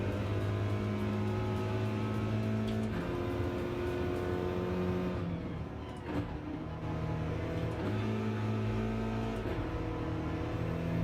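A race car engine in Gran Turismo hums at steady pitch, then drops and climbs again through smooth upshifts. The drone is continuous and moderately loud, with no talking.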